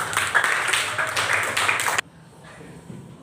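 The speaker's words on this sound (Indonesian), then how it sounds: "Ya, tepuk tangan dulu buat Bapak." A classroom applauding at a teaching practice session, a loud burst of dense clapping that cuts off abruptly into a quiet room.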